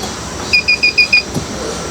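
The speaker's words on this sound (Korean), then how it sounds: "손에 뭐가 끼거나 뭔가 앞쪽에 뭐가 있으면 삐삐삐 거리면서" A camper van's motorized terrace safety sensor gives a quick run of five or six clear, close electronic beeps, evenly spaced and then stopping.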